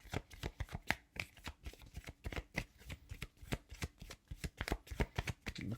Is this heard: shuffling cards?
yes